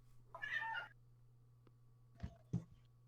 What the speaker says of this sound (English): I'm just gonna let him meow for a minute